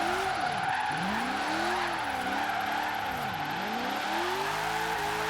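A drift car sliding in Forza Horizon 3, its tires squealing in long sweeping wails that rise and fall over a loud, continuous engine roar, with no voices.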